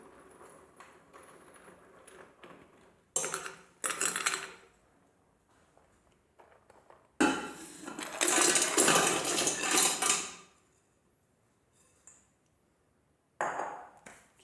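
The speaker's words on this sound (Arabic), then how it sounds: "غنوضع فيها قطع ديال السكر اللي عندي" Hard sugar chunks dropped into a pressure cooker pot, clattering and rattling in a few separate bursts with quiet gaps between them, close by.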